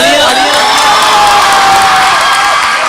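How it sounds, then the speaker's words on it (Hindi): Loud audience applause and cheering at a college poetry recital, a continuous roar of clapping, whoops and shouts close and filling the hall throughout. "इनके लिए बहुत सी तालियां"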